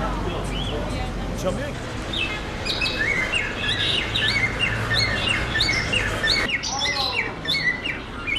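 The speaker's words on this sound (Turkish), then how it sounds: "Papağan kaçmış da Sultan." Shrill squawks and chirps from an escaped parrot repeat irregularly, loud and close, over an outdoor street background of murmuring voices and faint traffic.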